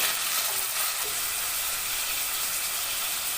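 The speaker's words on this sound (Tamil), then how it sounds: "தேவையான அளவு வெங்காயத்தை சேர்த்து நம்ம நல்லா வதக்கிக்கலாம்" Onions sautéing in a pan with tempered spices and green chillies for mint rice give a dense, continuous hissing sizzle, close and even throughout.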